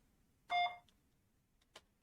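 A single short electronic beep in the video game Jimmy and the Pulsating Mass sounds, followed a moment later by a fainter brief blip, against near silence.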